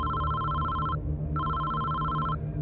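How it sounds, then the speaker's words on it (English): A telephone rings with a steady electronic trill, two long bursts separated by a short pause, loud and close over a low background hum. "Then his phone rang again."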